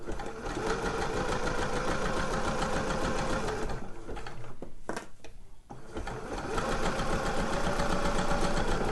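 Sewing machine running steadily while basting grey slipper upper fabric with black thread, a continuous close mechanical whirr of rapid needle strokes that briefly slows and pauses midway before resuming at full speed.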